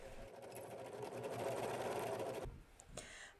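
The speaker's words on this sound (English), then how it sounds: "Serge or sew this string length to the neck." A serger sewing machine stitches a string length onto a bonnet neck, a loud, steady mechanical whir that runs continuously for about two and a half seconds before stopping, followed by a brief pause and a short final burst.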